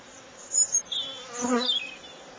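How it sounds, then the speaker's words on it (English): Buzzing of three or four bees close by during a beehive inspection, the drone rising and falling as they fly around near the listener's head. "I've got 3 or 4 bees flying around my head who are intent on getting in"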